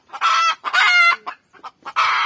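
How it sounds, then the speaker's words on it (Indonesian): Jungle fowl in a garden clucking and crowing loudly and close by, several long harsh calls broken by short clucks. "Ini di kebun guys. Ribut aja ayam."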